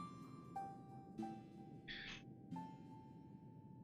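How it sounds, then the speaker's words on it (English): A bird calls repeatedly in Final Fantasy XIV, clear tonal notes at a steady pace over quiet game ambience, with a brief brighter burst midway. "this damn bird is annoying."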